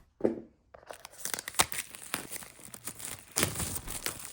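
Scissors slicing through the plastic wrap and cardboard packaging of an Apple HomePod Mini box, close up, a run of crisp tearing and crinkling cuts after a short pause, with no talking.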